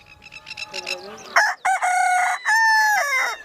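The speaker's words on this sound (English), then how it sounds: "Look at all those chickens." Rescued domesticated chickens cluck and squawk close by at a rescue centre, then a loud, drawn-out crow rings out twice, with no talking.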